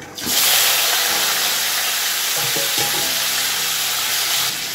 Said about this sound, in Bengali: সেদ্ধ করে রাখা ওল আর আলুগুলোকে আমি একটু ভেজে নেব।